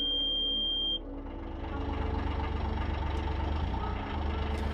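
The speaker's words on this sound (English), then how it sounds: "I started the engine, she ticked over, done the engine checks, and all good." A narrowboat diesel engine ticks over steadily after starting, a low even idle rumble that stays near and constant, with a brief high whine fading at the start.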